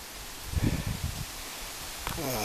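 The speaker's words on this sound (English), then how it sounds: "I'm showing you the wind out here with the trees." Wind gusts through trees and garden plants, including tomato plants and orange flowers, as a soft broadband rustle of leaves that swells and settles outdoors, steady and moderately faint.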